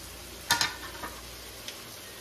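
Four pork chops fry in a wide pan with a low, steady sizzle, punctuated by a couple of sharp crackles and one faint pop.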